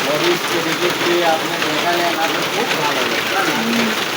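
Steady rain falls through the whole stretch during a village football match in Bangladesh, a dense even hiss close by with scattered faint voices and shouts from the players mixed underneath.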